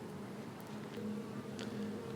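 Honey bees buzzing on an open brood frame during a queen replacement in a beehive, a faint, steady low hum with occasional brief louder buzzes of individual bees passing close.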